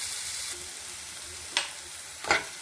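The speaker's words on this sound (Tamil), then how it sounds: "கொஞ்சம் இது நல்லா வதங்கினால முருங்கைக்காய் போட்டுக்கலாங்க." Moringa drumsticks frying in a pan with sautéed tomatoes and salt give a steady, close sizzle throughout, broken by two short scraping stirs near the end.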